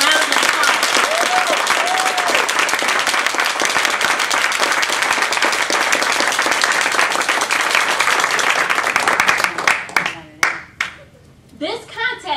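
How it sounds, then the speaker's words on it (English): An audience at a fall 2012 District 30 Central South Division speech evaluation contest applauds the contestants with loud, dense, sustained clapping for about nine seconds. It then thins out as a voice begins speaking. "So can we please give every contestant a round of applause?"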